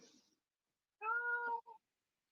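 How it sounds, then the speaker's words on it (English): A cat meows once, clear and tonal, followed by a short trailing chirp, alone against silence. "now I heard the cat, and the cat's yours"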